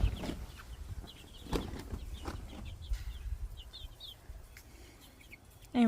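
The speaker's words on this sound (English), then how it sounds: "I got 4 chickens on my lap." Several chickens cluck softly and intermittently at close range, with scattered short chirpy calls and light rustling and flapping sounds, and no talking.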